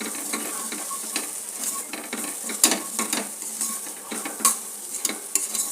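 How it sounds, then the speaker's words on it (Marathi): Home-made masala, coriander powder, chhole masala and turmeric sautéing in a pan for a Gudi Padwa thali, a close steady sizzle with irregular spoon scrapes and taps against the pan, no talk. "हा घरचा मसाला आहे, धना पावडर, हा छोले मसाला आणि हळद हे देखील आपण याच्यामध्ये परतून घेऊया"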